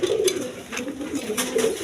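Quality pigeons cooing in a loft, a steady low, rolling murmur of several birds that runs through the whole stretch, with faint background rustle.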